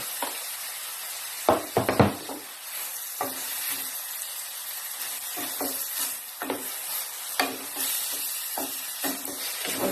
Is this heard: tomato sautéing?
yes